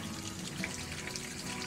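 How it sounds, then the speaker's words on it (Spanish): Grey water drains from a motorhome waste tank after the valve is pulled, a steady continuous rush and gurgle of flowing liquid with no pauses. "Empieza a salir el agua gris."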